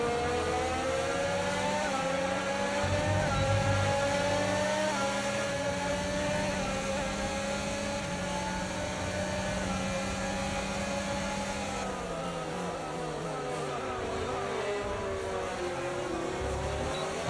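Racing-car engine in a racing video game, droning loudly and continuously with rising and falling pitch as it accelerates and shifts through gears over about seventeen seconds.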